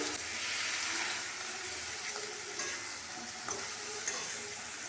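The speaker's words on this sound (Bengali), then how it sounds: "মশলাটা 5 মিনিট কষিয়ে নেব।" A spice paste of turmeric, chilli powder and cumin powder sautés in a pan with a soft, continuous sizzle, faint and close, broken by occasional light stirring clicks.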